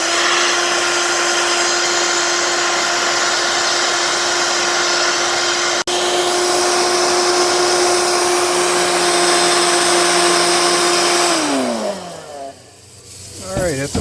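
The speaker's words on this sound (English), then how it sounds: "shut the cooking off by cooling it down with a blower" Blower cooling freshly roasted coffee beans in a DIY drum roaster, a loud steady motor whine with constant airflow roar that holds for many seconds, then drops in pitch and fades as it winds down; a voice talks over it.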